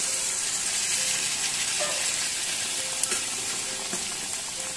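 A spiced curry cooks in a pan while it is stirred, giving a steady, close frying sizzle with a few soft scraping knocks and no talking.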